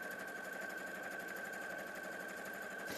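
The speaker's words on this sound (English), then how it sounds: "Now I'm going to sew one side on using 1/4 inch seam allowance." A sewing machine stitching a quarter-inch seam, running as a continuous, even motor whir with a fast regular needle rhythm for the whole three seconds.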